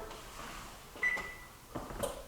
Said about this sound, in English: turn the oven off